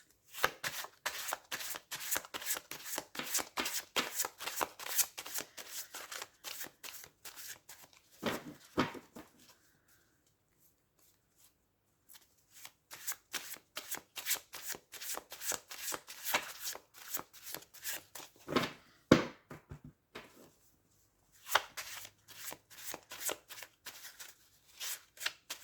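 Tarot cards being shuffled in a rapid riffling patter that runs in loud bursts, with a short pause partway through and a couple of sharper slaps, close and with no talking.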